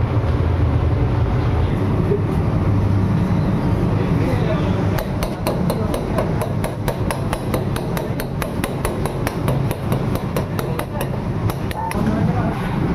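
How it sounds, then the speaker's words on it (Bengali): A fork jabs holes into a pizza base, making a rapid, regular series of close, sharp taps against the tray, preceded by a stretch of background noise. "এই যে আমি পিৎজার বেসটাকে এই কাঁটা চামচ মেরে আমি কেন ফুটো করে নিলাম"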